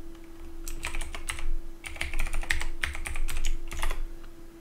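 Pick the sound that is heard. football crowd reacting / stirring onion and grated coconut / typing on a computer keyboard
typing on a computer keyboard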